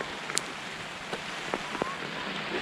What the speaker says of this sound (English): And still the rain comes in biblical proportions on occasions.